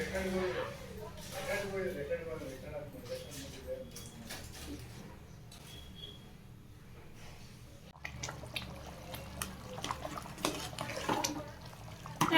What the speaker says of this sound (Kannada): ನೀರು ಕುದೀತಾ ಇದೆ